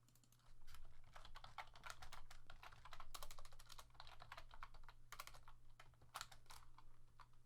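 Rapid typing on a computer keyboard, a dense run of close key clicks at an uneven rhythm over a steady low hum, faint overall.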